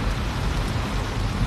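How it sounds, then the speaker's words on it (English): Heavy rain pours outdoors in Atlanta, Georgia, a dense, loud, unbroken hiss of drops hitting surfaces with no gaps and no voices. "it's raining hard out here"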